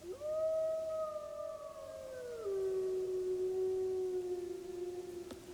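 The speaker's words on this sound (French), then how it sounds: "Puis ce fut un hurlement dans la montagne." A single wolf howls in the mountains, one long sustained wavering call that slides downward and holds steady, clear and alone against quiet surroundings.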